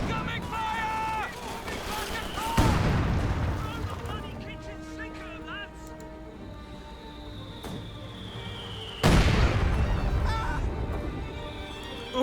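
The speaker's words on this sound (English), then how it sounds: "Incoming fire!" Incoming artillery fire in the strategy game Company of Heroes 2, two heavy explosive impacts several seconds apart, each a loud booming burst with rumbling tail, amid wind-like battlefield ambience and honking unit sounds.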